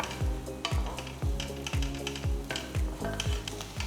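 Finely chopped onions and slit green chillies sautéing in a pan, a steady sizzle broken by regular rhythmic stirring scrapes, close and fairly quiet, no talk.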